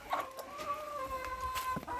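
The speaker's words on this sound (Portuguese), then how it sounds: "Aqui a gente já tem algumas galinhazinhas aqui, ó." Farm hens in a backyard poultry pen cluck and murmur continuously, several birds close by with repeated short clucks over a steady low background.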